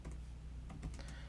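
Faint clicks of typing on a Mac computer keyboard as a terminal command is entered, a few quick close keystrokes over a low room hum.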